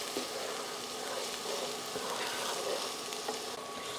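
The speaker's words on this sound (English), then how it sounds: "everything's going to be sauteed in this pan really quick" Minced garlic and ginger sauté in a hot pan for sweet and sour shrimp, giving a steady close sizzle with faint crackles and no voices.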